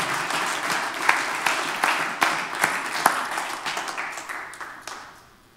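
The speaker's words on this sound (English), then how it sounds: "let's just clap one more time to the Lord as we're seated." Congregation clapping at a Wednesday night Bible study church service: sustained, dense applause from a crowd of many hands, with a few sharper claps standing out, fading away at the end.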